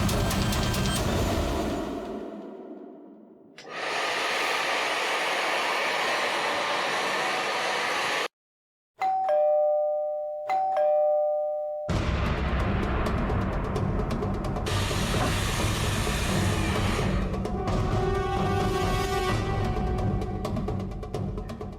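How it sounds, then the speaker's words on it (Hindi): A doorbell chimes in two tones, clearly audible above the steady, loud hiss and roar of an air conditioner and a hair dryer, with the noise cutting in and out abruptly around it. "एसी और हेयर ड्रायर की आवाज के ऊपर भी बेल की आवाज साफ सुनाई दे रही है।"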